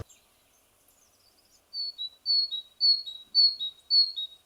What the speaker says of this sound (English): chaffinch, woodpeckers, all sorts of birds around us